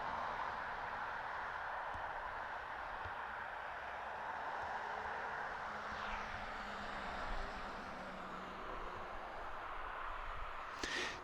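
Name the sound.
aircraft flying over near airport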